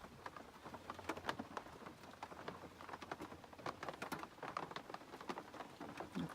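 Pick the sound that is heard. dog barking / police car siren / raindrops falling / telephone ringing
raindrops falling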